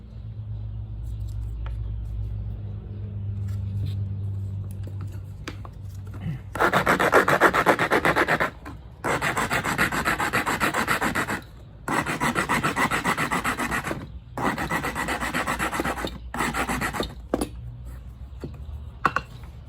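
A hand saw rasps through wood in several long rhythmic bursts with brief pauses between, close and loud, after a quieter stretch with a low hum.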